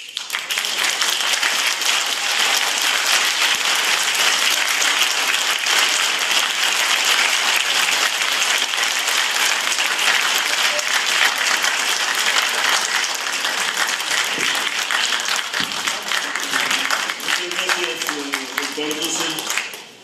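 Audience applause after a talk at a book presentation of a revised translation of Marx's Capital, a dense sustained clapping that holds steady for most of the clip before thinning out as a voice begins speaking near the end.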